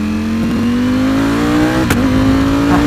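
A $70,000 carbon-bodied V4 motorcycle engine revs hard on a dyno, its loud, rising drone climbing steadily before a sharp pop or crackle near the end, close and dominant.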